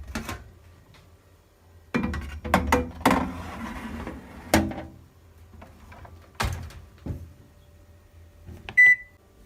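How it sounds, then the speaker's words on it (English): Scones go into a home oven: a few sharp clanks and knocks of a tray and door, scraping and handling noises in between, then a short electronic beep near the end, close and intermittent. "now put it in the oven"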